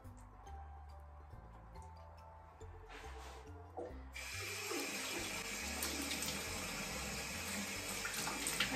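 Tap water running into a sink while someone rinses off their face, a steady close splashing rush that starts partway through after some quieter handling sounds and then continues loudly.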